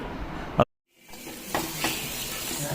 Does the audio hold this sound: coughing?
no